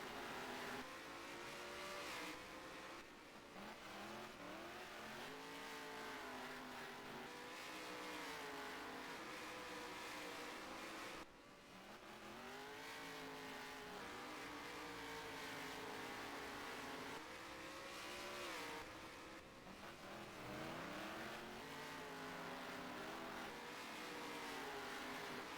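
Saloon and modified race cars at the Southland championship race past at a distance, engines rising and falling in repeated revving sweeps with a steady roar underneath.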